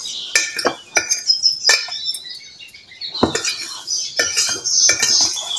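A spoon scrapes and clinks against a bowl while bird food pâtée is worked together, giving irregular close metallic taps and scraping strokes with short pauses between.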